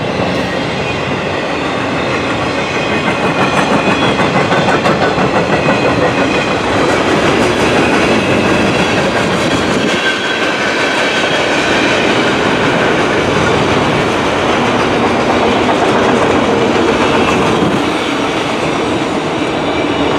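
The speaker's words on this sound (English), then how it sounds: "That's a long train too." A long CN freight train rolls past at close range, a continuous loud rumble of wheels and rail clatter with faint squeals that holds steady for the full length.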